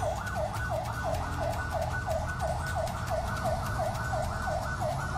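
An ambulance siren wails in a fast, regular rising-and-falling cycle at a bus terminal scene. It sounds loud and steady throughout over a low traffic rumble, with no talk.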